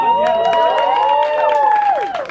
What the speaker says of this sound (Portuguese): Eu quero pedir uma salva de palmas pra Camila.